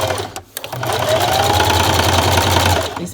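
A sewing machine stitches a seam on baby pants with a steady, close, continuous whir that fills nearly the whole stretch after a brief stop-start near the beginning.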